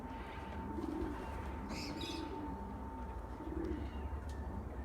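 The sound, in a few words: pigeons from a loft out training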